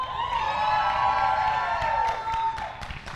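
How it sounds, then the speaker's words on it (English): An enthusiastic crowd at a comic convention panel cheers, whoops and applauds steadily throughout, a dense roar with scattered claps and high shouts, close and loud. "it's an incredibly enthusiastic crowd"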